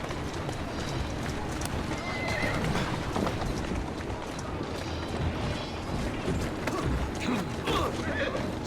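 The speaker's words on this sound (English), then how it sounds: "Who's a good horse?" A horse in Assassin's Creed Syndicate, with hooves clopping and a neigh over a busy street backdrop, steady and fairly close, with voices speaking throughout.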